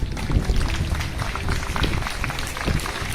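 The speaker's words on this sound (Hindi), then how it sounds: "सभी से निवेदन करतल ध्वनि से" An audience claps steadily in dense, continuous applause to welcome the chief guest at a 2 October school celebration of Gandhi Ji's and Lal Bahadur Shastri Ji's birthdays. The clapping is loud and close, with no speech over it.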